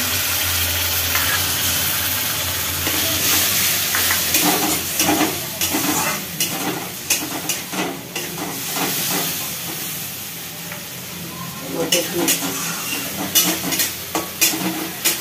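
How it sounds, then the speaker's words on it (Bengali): Spice paste frying and being stirred with onions in a pan for a rohu fish head curry, a steady close sizzle and hiss with repeated clanking stirs of the spatula throughout, no talking. "এইবার মশলাটা দিয়ে দেবো।"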